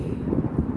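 Wind blowing across an outdoor microphone, a loud continuous low rumble with buffeting gusts and no other clear sounds.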